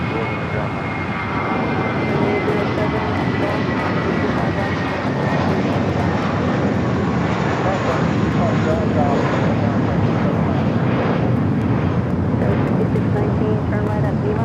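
A Boeing 777 airliner at LAX airport produces a loud, steady jet engine roar that lasts throughout, with a broad rushing drone heard from outdoors.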